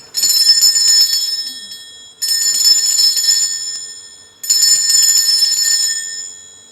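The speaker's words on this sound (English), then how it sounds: "I'm going to be ringing this bell." A small bell struck three times at even intervals, each bright, high ring sustaining and slowly fading over about two seconds, clear and alone in quiet surroundings.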